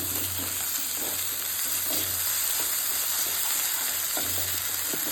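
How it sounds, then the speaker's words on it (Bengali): Chopped onions frying in hot oil for a homemade chicken biryani, a steady close crackling sizzle with occasional stirring scrapes, no voices. "তেলটা গরম হয়ে গেলে তাতে আমি পেঁয়াজ কুচিগুলো দিয়ে দিলাম"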